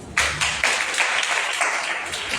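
Audience clapping at a church gathering, a short burst of brisk, fairly close claps with a loose rhythmic pulse, loud and without talk.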